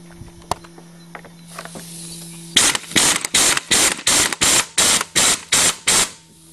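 A top nut on a spring compressor holding a spring and rubber bumper is tightened with about ten loud, evenly spaced ratcheting bursts, after a few quiet clicks and a low hum.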